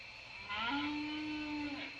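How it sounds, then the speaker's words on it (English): A single cow moos once, a drawn-out low tonal call near a stopped train on its tracks, fairly faint and alone over quiet background noise. "That sounded like a cow."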